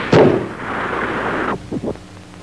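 Gunfire in an animated Cuban cartoon: one loud, sharp shot at the start that rolls into a sustained echoing rumble, followed by a couple of smaller pops.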